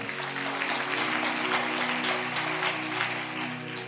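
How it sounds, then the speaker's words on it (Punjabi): A congregation at a Punjabi Christian sermon claps along loudly, a dense, continuous wash of hand claps that holds steady from start to finish with a sustained tonal hum running underneath. "ਤਾਲੀ ਮਾਰੀਏ ਜ਼ੋਰ ਤੇ।"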